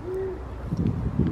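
An owl hooting from a nearby tree in Sydney, Australia: one long, low, steady hoot near the start, then quieter rumbling outdoor background with no talk.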